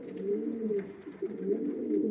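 Pigeons in a racing-pigeon loft give soft, continuous throaty coos, close and fairly quiet, with no other sounds.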